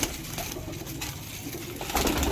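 A large Habshi pigeon coos steadily nearby, a low throaty burbling that swells slightly toward the end, with no talking.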